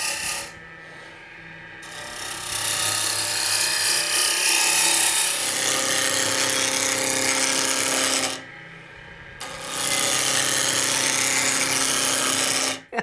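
Wood spindle being cut on a lathe, a steady broadband scraping rasp with whirring rotation, louder and brighter in two long passes separated by brief quieter gaps.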